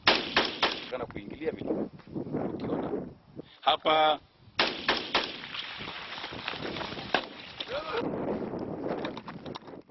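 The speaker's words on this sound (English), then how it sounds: "An interview is interrupted by the sound of gunshots." Several sharp gunshots crack out amid ongoing talk, one burst around the middle standing out loudly, with wind buffeting the microphone.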